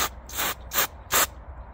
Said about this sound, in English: I'm just going to put a little bit of spray grease